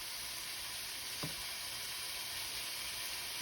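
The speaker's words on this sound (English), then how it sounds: "we're just gonna let this shrimp cook" Shrimp with seasonings cooking in a pan over medium-high heat gives a steady, even sizzle throughout, with one brief stir or tap partway through and no voices.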